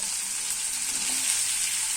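Steady, even sizzling of potatoes and pumpkin frying in a pan, a continuous crackling hiss with no talking.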